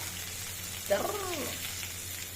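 Jackfruit curry goes into cumin sizzling in hot oil, a steady frying hiss with a brief sharper splash as it lands, while a voice speaks softly underneath.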